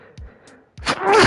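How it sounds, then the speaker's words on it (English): A single short, sharp sneeze bursts out loudly after a brief intake of breath, close and isolated in a quiet moment of the Ace Attorney game. "I'm about to sneeze."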